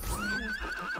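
A horse in the Disney Infinity 3.0 video game lets out one loud, wavering whinny lasting about a second, close and clear, with faint game sounds beneath.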